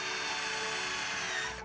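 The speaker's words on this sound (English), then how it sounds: "drills holes in the plaster to break the vacuum between the layers, making it easier to lift off" A power drill bores holes in a plaster mould taken from a sculpture master, a steady high whirring grind that holds without pause.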